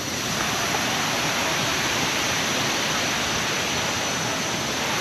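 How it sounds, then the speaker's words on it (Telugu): Kausani waterfall in Laos roars as a loud, dense, unbroken rush of falling water close by, steady throughout with no voices over it. "వావ్, వాటర్ ఫాల్ అయితే సూపర్ సెక్సీ 5 స్టార్"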